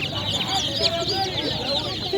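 Chickens cluck and squawk in a busy crowd at an outdoor poultry market, a dense, close chorus of overlapping calls running without pause.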